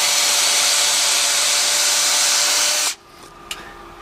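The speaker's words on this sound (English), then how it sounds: "go ahead and drill a hole" A power drill bores a hole in wood for pergola café lights, a steady high whine for about three seconds that stops abruptly, then a quiet pause with a small knock.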